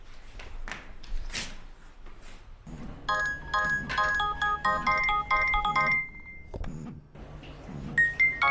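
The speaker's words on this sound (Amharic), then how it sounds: "ስልክ እየጠራ ነው፣ አይሰማህም?" A phone rings with a melodic electronic ringtone that repeats in bright bursts for several seconds, heard among other room sounds with some voices.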